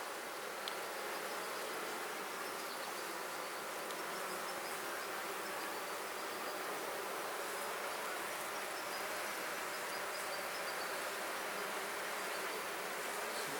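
Honeybees buzz in an open beehive where a queen cell is being tended, a steady close-up drone that holds at an even level throughout with no voices.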